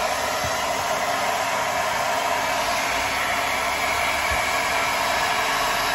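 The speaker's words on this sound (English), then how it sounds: "I've got my hairdryer out" A hair dryer roars continuously at full power, melting wax for waterproofing gear, a steady loud whoosh with no pauses or voices.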